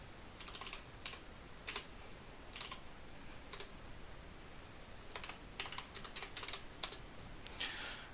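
Quiet typing on a computer keyboard while entering a command on a Linux server, with short bursts of clicking keystrokes separated by pauses and no talking.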